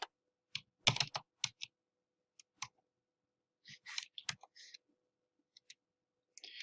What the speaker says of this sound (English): Let me type this in and then we'll explain.